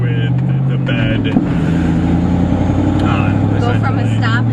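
An old pickup truck pulls away from a stop in second gear with a deep, steady engine drone that holds close and loud throughout, while voices murmur faintly over it.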